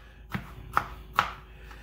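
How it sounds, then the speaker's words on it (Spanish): A knife chops tomato into small pieces on a cutting board, three sharp chops spaced under half a second apart, close and clear with no voices. "El tomatito lo vamos a picar en pedacitos."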